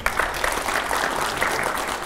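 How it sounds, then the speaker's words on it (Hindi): A studio audience at a televised Hindi political show with Sachin Pilot and five editors breaks into vigorous applause, a dense, even roar of clapping that fills the whole stretch without voices. "ये हमारा जोरदार तालियां हो जाए पहले"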